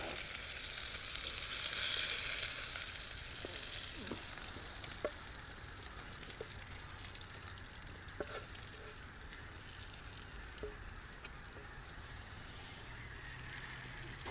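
Burgers fry in a pan over a camp stove outdoors, a steady close sizzle running the whole time with occasional small pops and crackles, louder at first and then settling.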